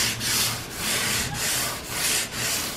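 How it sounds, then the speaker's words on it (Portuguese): Wall putty being sanded by hand with 150-grit sandpaper, heard as steady back-and-forth scraping strokes, about five rhythmic passes, close and loud with no talk. "com a lixa 150, primeiro eu vou apagar o risco"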